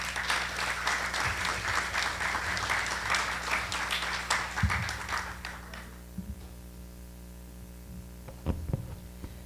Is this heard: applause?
yes